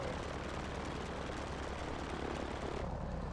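A small aircraft engine drones steadily inside the cockpit as the plane slows. The propeller hum is constant and dense, then eases slightly in the final moments, with no talking.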